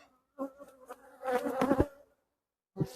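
Honeybees buzz during an October beehive inspection, with close insect hums rising and falling in short passes, one longer burst in the middle and brief quiet gaps.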